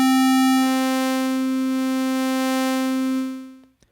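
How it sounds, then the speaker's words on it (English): An Ableton Wavetable synth holds a steady low sine-based tone rich in harmonics, sustained and loud for several seconds before fading out, with the timbre shifting subtly as the wavetable morphs. "Now we're going to morph between the sine wave"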